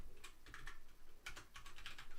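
Close typing on a computer keyboard during PHP coding: bursts of crisp key clicks with brief pauses between them, soft and steady over low room noise.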